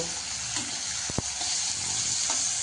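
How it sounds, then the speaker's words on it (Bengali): Potatoes, carrots and other vegetables fry with turmeric in a pan, making a steady, dense sizzle throughout, with a couple of brief clinks from a utensil near the middle. "আমার আলুটা সবজিগুলো সব ভাজা ভাজা হয়ে গেছে"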